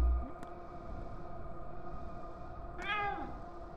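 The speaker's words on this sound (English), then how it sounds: "There's definitely a porcupine running around meowing." A creature meows in the video game Pathologic 2, a single clear, rising-and-falling meow that stands out near the end over a steady droning ambient background.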